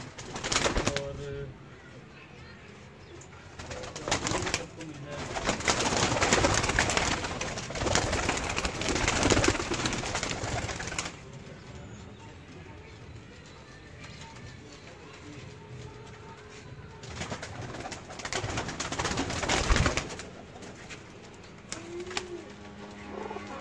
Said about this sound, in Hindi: ये मेरे वो कबूतर है